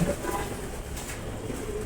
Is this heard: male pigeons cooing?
yes